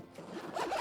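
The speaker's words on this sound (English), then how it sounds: "and zip it up and then close this side." A zipper on a motorcycle saddlebag liner is pulled shut in one short, quick stroke, close and fairly quiet, with no voices.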